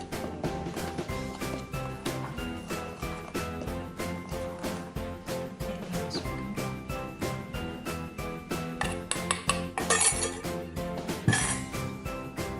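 Wheat flour and baking powder stirred together in a bowl for chocolate cookie dough, a steady run of light clinking and scraping strokes with faint ringing, close and continuous, under soft background music.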